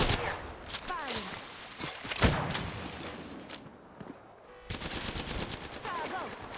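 Automatic and single gunshots in an Apex Legends battle, sharp bursts spread across the clip over game ambience, with a voice speaking intermittently between shots.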